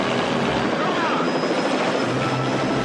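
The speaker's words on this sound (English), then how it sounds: "You've got the helicopter hovering down just like that" A helicopter hovers low in the film First Blood, a loud, dense, continuous rotor and engine roar that fills the whole span without a break.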